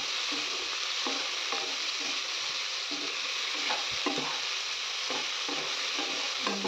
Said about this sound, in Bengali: ফুলকপিটা একটু সোনালি কালারের একটু পরে একটু হালকা ভাজতে হবে